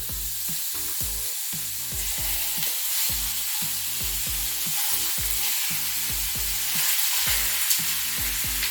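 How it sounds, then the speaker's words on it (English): Ground beef fries in a hot pan with a loud, constant sizzle, punctuated by quick rhythmic scraping and stirring bursts throughout. "So we're gonna just get that ground beef in the pan."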